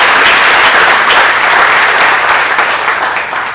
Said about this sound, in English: a round of applause for Sister Erin.